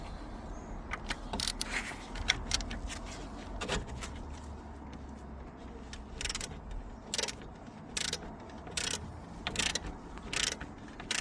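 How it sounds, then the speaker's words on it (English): A ratchet with a 24mm socket works on the oil filter housing of a Chevrolet Aveo, making repeated sharp clicking bursts of the pawl in uneven runs over a low background rumble, close and with no one speaking. "So we're going to be using a 24mm socket to undo this housing."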